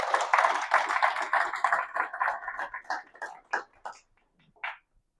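An audience claps for a speaker after a talk, with dense applause that thins over about four seconds to a few scattered claps, then one last clap.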